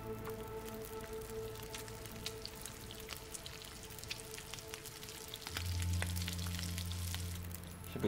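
Food cooking over a campfire in The Long Dark, a soft steady sizzle and crackle that grows louder and fuller partway through as more food goes on, with no talking.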